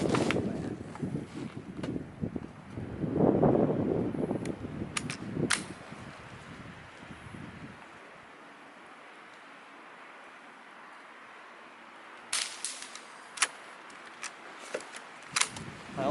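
A suppressed Ruger 10/22 bolt action fitted with a Gemtech suppressor fires Aguila Pistol Match 40 grain subsonic ammunition outdoors: a muffled shot, followed later by several sharp, faint bolt clicks against light wind noise.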